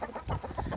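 Chickens clucking in quick, overlapping bursts while eating soaked barley and wheat, close by, with a busy jumble of short calls and no talking.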